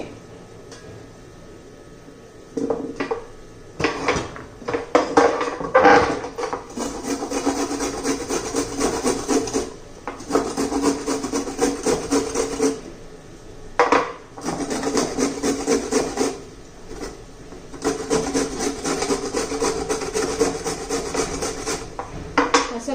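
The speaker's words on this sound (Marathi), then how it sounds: "आता मी ते किसून घेते" Peeled red carrots for jaggery carrot halwa are rubbed against a hand grater in rhythmic bursts of rasping strokes, close and fairly loud, separated by short pauses.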